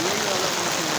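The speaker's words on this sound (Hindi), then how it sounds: "बहुत तेज़ बारिश हो रही है" Heavy rain in Mangla pours in a dense, steady roar of drops that fills the whole moment with no break.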